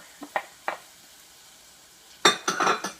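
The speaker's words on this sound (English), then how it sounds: "I've let our oil heat up, and so we're going to put in our garlic. And our ginger." Garlic and ginger go into heated oil in a pan: a few light taps, then a sudden burst of close, crackling sizzle that settles into uneven frying spatter.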